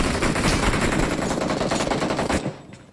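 Sustained automatic gunfire in the video game PUBG, a dense rapid burst of loud shots that stops abruptly after more than two seconds and tails off into a faint echo.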